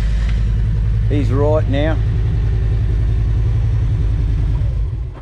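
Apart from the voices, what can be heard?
motorbike approaching and engine running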